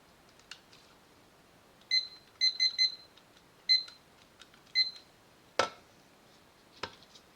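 A digital timer beeps in short, high-pitched bursts, first a quick run of beeps and then single ones, with a few faint clicks and one sharper clack between them in a quiet room.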